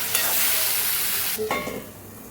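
Sabudana and sugar stirred in a pan over low gas, a loud hissing sizzle that cuts off abruptly partway, followed by a few soft clinks and scrapes.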